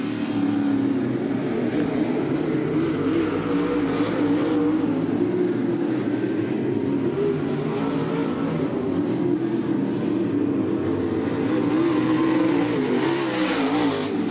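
Dirt track race cars roar steadily at Southern Ontario Motor Speedway with two laps to go, a dense continuous engine drone from several cars battling for the lead, with no speech over it.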